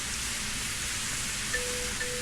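Heavy rain falls steadily on a muddy forest road, a dense continuous hiss with no voices, with a faint tonal hum entering partway through.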